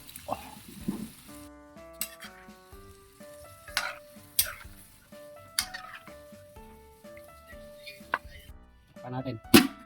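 Marinated chicken with garlic, onion and fish sauce frying in a pan, with a soft continuous sizzle broken by repeated scraping stirs and clatter, faint beneath background music.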